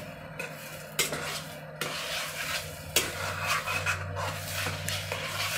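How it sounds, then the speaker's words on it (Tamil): A herbal home-remedy mixture is stirred steadily in a pot, with scraping strokes and occasional sharp clinks of a utensil against the metal, close and moderately loud over a faint sizzle. "இது கிண்டி விட்டுகிட்டே இருக்கணும் கண்டினியூஸாக"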